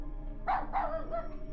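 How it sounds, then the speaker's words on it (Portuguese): A loyal female dog named Chiquilina, near a bathroom door, barks frantically in two or three quick, close, sharp yaps over a low background hum. "o latido frenético da minha leal companheira, Chiquilina"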